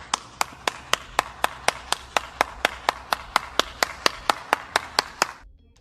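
A steady run of about twenty sharp claps in an even rhythm, close and distinct, ending abruptly.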